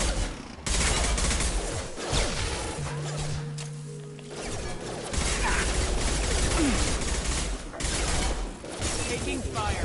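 Hostile mechs open fire in the video game Mass Effect 2, a steady stream of rapid gunshots and impacts throughout, dense and loud, with game speech mixed in.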